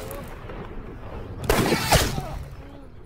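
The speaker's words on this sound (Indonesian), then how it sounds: "Tanpa rasa ragu dan belas kasihan, sang bocil langsung menembak target tersebut." A single gunshot from a film scene in which a boy shoots a target tied to a tree, a sharp loud crack with a short rumbling tail, heard over a low background.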